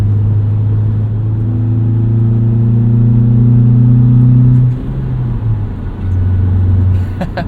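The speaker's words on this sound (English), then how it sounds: "It's got a aftermarket intake on here, and it makes a nice induction noise." A 2001 Honda CR-V with a manual gearbox, a 2-liter four-cylinder engine and an aftermarket intake revs up with a rising induction drone, holds, then drops and revs again, loud and close with no talking.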